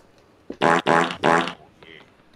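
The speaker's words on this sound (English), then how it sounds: "Can I hear some farts, Edna?" A wet, sputtering fart sound effect plays as three quick bursts in a row, close and loud, with a brief gap between each.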